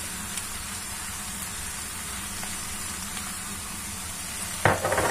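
A sizzling gratin mixture with chopped parsley and coriander is stirred in a hot pan: a continuous dense sizzle runs throughout, then a sharp scraping clatter near the end; no voices.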